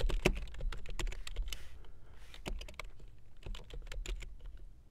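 Quick bursts of keystrokes on a computer keyboard as an ifconfig command is typed, close and crisp with short pauses between clusters of clicks.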